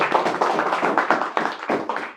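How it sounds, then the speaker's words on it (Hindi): A small group in an AC circuit board repair class claps, distinct, fairly close hand claps in an uneven quick rhythm, a few hands rather than a large crowd. "इनके लिए जोरदार तालियां।"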